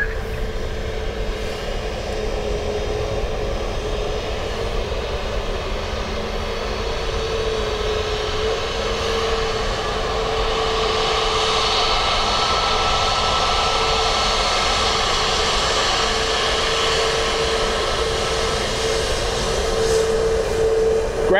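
A Ryanair jet airliner lands at Dublin Airport, its engines a steady broad roar heard from a distance that slowly builds and brightens as it passes over, with no voices.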